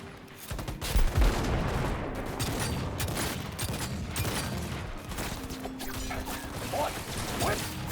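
Gunfire in the Cyberpunk 2077 video game, a dense continuous barrage of shots and mechanical clatter mixed with game noise and music, with a voice talking over it.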